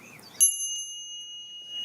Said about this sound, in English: you'll hear the sound of the bell. It's going to sound like this.